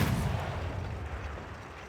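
Field cannons firing artillery during a battle in Civilization 6: Gathering Storm, a heavy low rumbling boom that rolls on steadily and loud throughout, with no talk over it.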